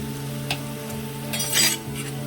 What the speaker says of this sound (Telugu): మాడకుండా గరిటతో తిప్పుకుంటూ మంచిగా వేగాలండి ఉల్లిగడ్డ, పచ్చిమిర్చి, అల్లం వెల్లుల్లి పేస్ట్ కూడా.